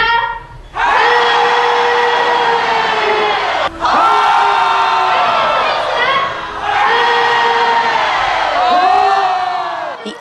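A large audience screams and cheers loudly to make a giant ball move, in three long sustained bursts separated by brief pauses.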